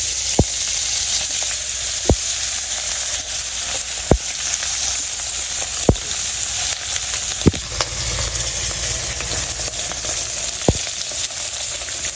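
Fish sizzles steadily in hot oil on a clay stove in a village kitchen, with a constant loud frying hiss. Occasional sharp pops and spatters break through, and nobody speaks.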